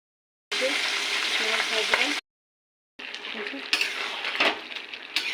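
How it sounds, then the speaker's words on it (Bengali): Fish fried in a pan, a steady broadband sizzle that plays for a couple of seconds, cuts out, then returns with clinks of utensils against the pan and stirring sounds. "এখন মাছটা ভাজবো।"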